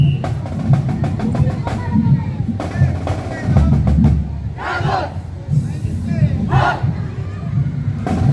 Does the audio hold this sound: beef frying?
no